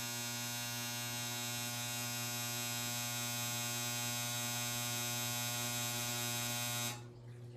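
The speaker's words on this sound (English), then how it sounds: "Sorry, my dryer." A steady electric buzzing hum of an appliance running close by with strong tonal whine, cutting off abruptly near the end.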